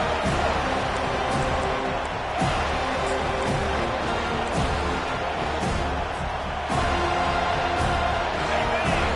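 A roaring stadium crowd in a college football video game on first and goal, Florida State against the Florida Gators, producing a continuous loud cheering wash with surges and swells, while a commentator's voice talks over it.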